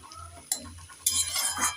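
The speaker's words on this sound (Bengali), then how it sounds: "তিন চার মিনিট ভাজতে ভাজতে পুরোপুরি একদম আলুগুলো সিদ্ধ হয়ে গেছে" Kundri (ivy gourd) and potato pieces stirred in a frying pan, with a spoon scraping and clinking against the metal over a low sizzle, two louder bursts of clatter standing out near and close.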